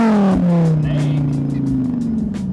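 A Dodge Viper V10 engine revs hard toward redline, its rising then falling drone loud and close, with a rapid stuttering pulse as it hits the limiter, under someone talking.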